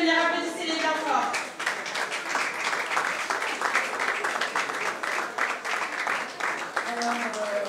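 An audience at the JazzKif press conference claps in a lively round of applause that lasts several seconds, with a voice talking just before it starts and again as it fades.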